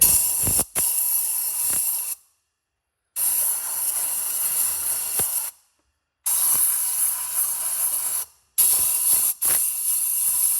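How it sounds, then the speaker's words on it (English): Compressed air blasts into a Chevrolet Cruze engine bay during a head gasket job, blowing out debris in four loud, steady hissing bursts separated by short silences, close and with no talk. "I am going to just use a little bit of compressed air and just blow out any potential debris that has fallen down in here."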